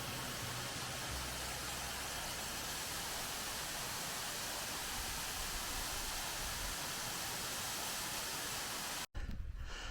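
A steady, dense rush of falling water fills the air beside a coastal footpath near Hartland Quay, loud and unbroken until a brief cut near the end.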